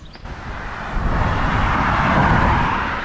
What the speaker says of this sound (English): we'll just let that car disappear into the distance